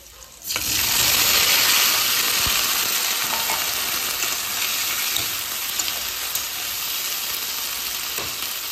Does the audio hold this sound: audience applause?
no